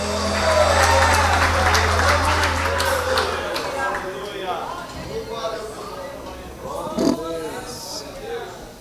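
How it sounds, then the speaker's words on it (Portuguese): A church congregation claps loudly in praise, with raised voices and exclamations mixed into the applause, which gradually thins out. "Exalte ao Senhor Jesus com as suas palmas"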